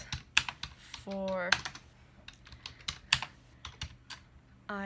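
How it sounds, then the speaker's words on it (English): One-handed typing on a computer keyboard: a steady run of uneven, close key clicks, with someone talking over part of it. "I'm typing with one hand, so it's going to take forever."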